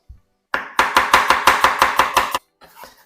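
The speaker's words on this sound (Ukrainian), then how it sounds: "Зараз я цибульку наріжу дуже-дуже тоненько, напівкільцями." A knife thinly slices an onion into half-rings on a board, about ten quick, evenly spaced crisp chops in a row, close and loud, with no talking.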